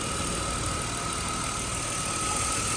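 A BMW car engine idles steadily and evenly, a constant close rumble with no revving or other sounds.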